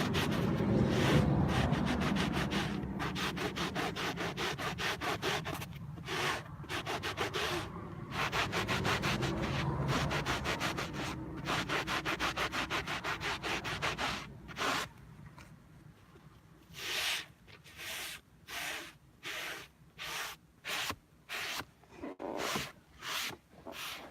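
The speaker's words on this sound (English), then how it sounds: "I'm gonna go ahead and scrub this real quick" A stained car seat scrubbed by hand with a brush, a continuous rough rubbing that turns into a series of quick, separate back-and-forth scrubbing strokes toward the end.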